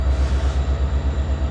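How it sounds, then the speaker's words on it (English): Loud, steady rumble of a train rolling over a bridge close by in North Vancouver, heard from below, with a rhythmic low thumping of wheels and a continuous roar. "Is this the train coming through that's making all the noise?"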